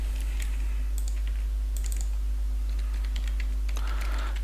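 Code being typed on a computer keyboard, quiet scattered clusters of key clicks in irregular bursts over a constant low electrical hum.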